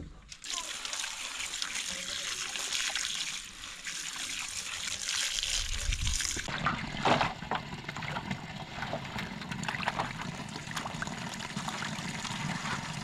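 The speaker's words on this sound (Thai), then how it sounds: "เห็ดก็คือกันเอาไปล้างเบิดเลย" Mushrooms being washed by hand in water, with continuous splashing, sloshing and trickling close up, shifting in intensity as they are rinsed.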